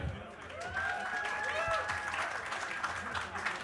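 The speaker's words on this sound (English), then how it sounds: "Everybody, please give a round of applause." A conference audience at a Bitcoin event claps to welcome panelists, a moderate round of applause with a few whoops and voices mixed in, carrying on steadily before thinning out.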